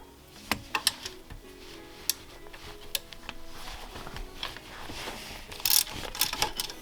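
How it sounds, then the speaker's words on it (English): A ratcheting wrench works a 14mm bolt in front of the radiator of a CRX, close-up irregular clicking and metallic ticks with a few sharper clanks, no talking. "I really recommend getting a ratcheting wrench if you could."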